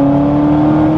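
A supercharged Corvette C6 ZR1 engine pulls hard at full throttle from around 3000 RPM, giving a loud, steady, close roar with a sustained whining drone.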